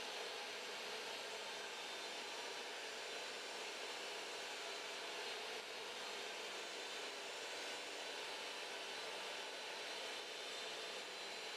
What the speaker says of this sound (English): As I feed the stock through the blade, I use my push block to make sure the stock stays against the fence.